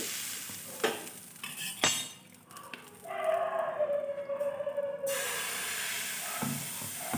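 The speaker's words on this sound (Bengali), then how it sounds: "চাটুটার মধ্যে এক সিটের জল দিয়ে দেখলাম গরম হয়েছে কিনা" A few sharp clatters, then water hits a hot, dry nonstick griddle and hisses loudly for a couple of seconds before fading into a softer steady sizzle.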